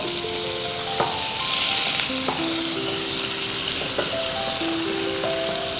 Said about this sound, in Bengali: আচ্ছা, এবার একটু পেঁয়াজ বাটা দিচ্ছি।